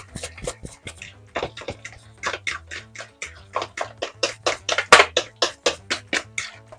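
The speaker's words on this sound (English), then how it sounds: "Mix it till smooth" A spoon scrapes and taps rhythmically against a bowl while stirring a mixture of organic honey, a steady series of short, close clicks and swishes repeating through the clip.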